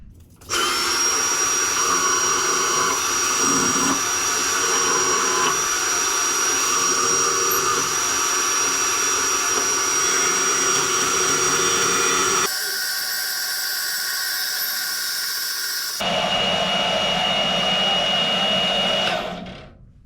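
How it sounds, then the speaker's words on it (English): A portaband saw cuts through a micarta knife handle, with a loud continuous whining drone that dips briefly midway and then resumes before stopping, and no speech over it. "eliminating some of the micarta off with the portaband saw"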